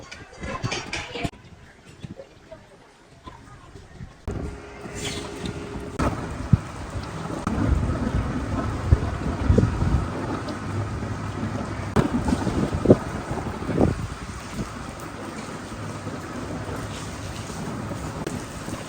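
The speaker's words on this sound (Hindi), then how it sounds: "अच्छी खासी तेज़ बारिश जी शुरू हो गई है, मूसलाधार बारिश।" Heavy torrential downpour with rolling thunder, a dense steady roar of rain that builds after a few seconds and holds loud and close, with occasional thunder rumbles and no speech.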